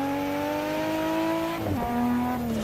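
A Nissan GT-R's engine in the Assetto Corsa racing game, a loud sustained high rev that drops sharply during a gear change and then climbs again, with no talking.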